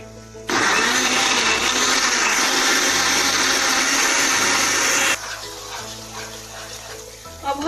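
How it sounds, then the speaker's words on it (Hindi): A loud electric grinder blends ginger and chillies into paste with water, whirring steadily for several seconds, then cuts to a lower, uneven hum before stopping. "इनको हम ग्राइंडर के जग में डालेंगे और इनका हम पेस्ट बनाएंगे"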